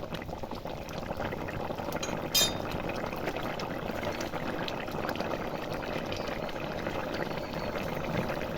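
Fish curry with cumin paste boils steadily in a pan, a soft continuous bubbling and simmering close by, with a brief clink partway through and no talking.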